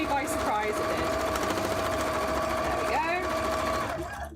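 A sewing machine top-stitches cosplay fabric, its steady mechanical whir running continuously at close range, and a voice talks over it.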